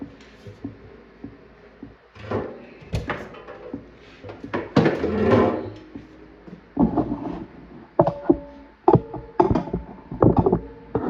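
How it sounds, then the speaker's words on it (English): Metal clanks, knocks and rattles as the coin door of a Space Firebird arcade cabinet is pulled apart during restoration, irregular close-up handling noises with short sharp hits and scraping. "let's pull this coin door apart here"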